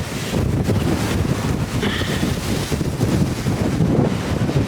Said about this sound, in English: Oh, it is a windy day.